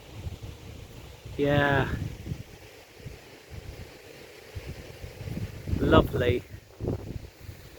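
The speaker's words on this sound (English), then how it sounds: "but a bit breezy" Breezy wind buffets the microphone at a garden allotment among flowering lavender and sunflowers, a low steady rush that swells and fades beneath two short bursts of someone talking.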